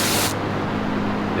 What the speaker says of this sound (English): I'm really digging the wet foam nozzle